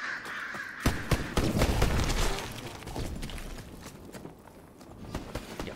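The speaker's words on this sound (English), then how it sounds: "Crows." Crows caw in a zombies video game, several harsh calls against loud bursts of game effects and thumps, fairly close and busy throughout.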